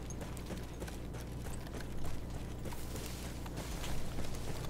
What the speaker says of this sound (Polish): Tutaj mamy naszego konia niby